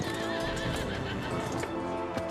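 Two horses neigh and whinny with clip-clopping hooves in the medieval video game Kingdom Come: Deliverance 2, loud and close, a sharp whinny rising over steady hoof beats.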